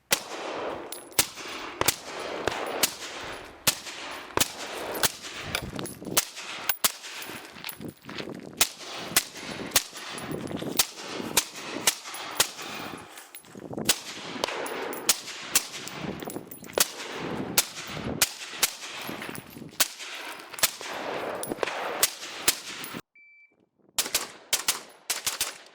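A long run of gunfire from a gun fitted with an MD-25 red dot sight: many sharp, close single shots and quick strings in an irregular rhythm, with a brief pause near the end before a few more shots.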